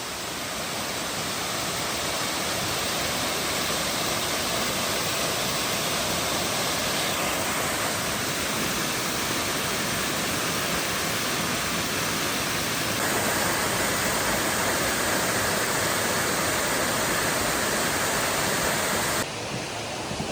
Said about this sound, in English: I do love me a good waterfall, and this place is majestic.